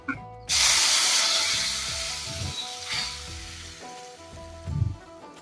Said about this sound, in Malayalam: നമ്മൾ വാങ്ങി വെച്ചിരുന്ന കറി മൺചട്ടിയിൽ നിന്നും കടുക് വറുത്ത എണ്ണയിലേക്ക് ഒഴിക്കുകയാണ്